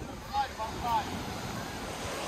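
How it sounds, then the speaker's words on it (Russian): Strong sea waves wash onto a beach in Antalya, Turkey, a steady broadband roar of surf with gusty wind noise across the microphone and a couple of slightly louder swells, continuous throughout. "Слушай, волна это прям сильная."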